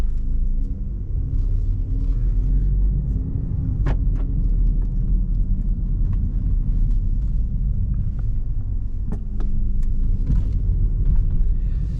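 Interior of a 2017 Mini Cooper 1.5 with 136 horsepower pulling away and driving, a steady low engine and road rumble with occasional clicks and knocks from inside the cabin, continuous and moderately loud.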